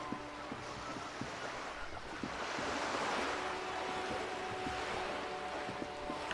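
Ocean waves wash steadily through the ambience of Disco Elysium, a constant broadband surf roar at moderate level with no voices.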